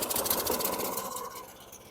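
A 2009 rear-wheel-drive Lawn-Boy mower engine runs poorly at very low RPM, a faint, steady rough chugging idle with a fast uneven pulse, close by with no talk.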